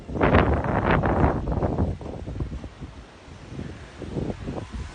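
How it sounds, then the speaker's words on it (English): Wind gusting on a narrow Cancun beach strewn with sargassum, a steady windy rush buffeting the microphone, stronger for the first two seconds and then easing into softer, uneven gusts. "the wind's blowing the smell"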